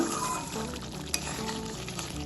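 A pan of Bengali egg posto curry simmers and sizzles softly as it is stirred lightly after the lid comes off, with one small clink of a utensil partway through.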